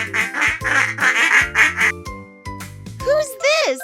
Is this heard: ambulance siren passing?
no